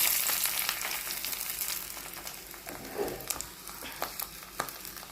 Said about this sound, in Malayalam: ഞാൻ അതിൽ ചട്ടി വെച്ച് എണ്ണ ചൂടായിട്ടുണ്ട് ഇതാ കടുകും മുളകും കൂടെ ഇതിൽ ഇട്ട് കൊടുക്കുകയാണ്